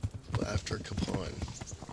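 Horse hooves clip-clop in Kingdom Come: Deliverance, a quick rhythmic series of close hoof strikes, with a voice speaking over them.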